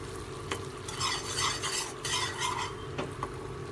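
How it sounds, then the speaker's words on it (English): White sauce for macaroni, with salt added, is stirred continuously in a pan, making close, rhythmic scraping swirls over a low bubbling sizzle. "Add some salt for taste and stir it continuously."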